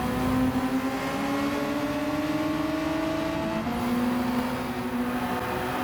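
Race car engines from Gran Turismo 7 drone steadily at high revs as several cars run together, the pitch gliding up and shifting near the end, loud and continuous without any voices.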